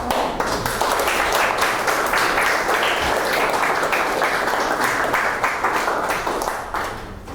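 Full audience applause at the close of a talk on the quantum revolution, dense and loud sustained clapping across the whole stretch, fading slightly at the end.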